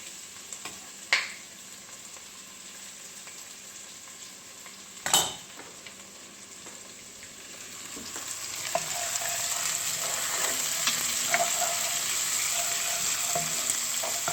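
Onions frying in a pan for goat biryani: after a couple of sharp clinks of metal utensils, the sizzle swells into a loud, steady crackle, heard close with no talking.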